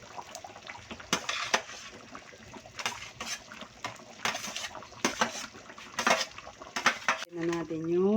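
Fried potato and carrot pieces tumble into a pot of pork caldereta, giving a series of clattering, scraping thuds against the metal at close range, with no voices.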